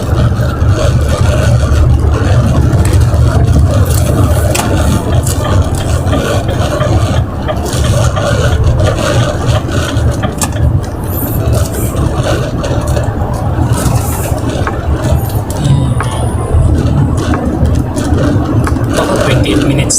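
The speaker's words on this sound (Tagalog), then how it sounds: "traffic na ngayon" Road traffic on a highway jammed after an overturned truck, a dense continuous rumble of car and bus engines with whirring and scraping, steady and loud throughout, with faint speech mixed in.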